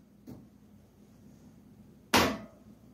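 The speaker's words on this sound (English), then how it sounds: "Cut the bottom off." A knife cuts the bottom off a butternut squash on a board: a faint tap, then one sharp, loud chopping thunk close by, with no talking.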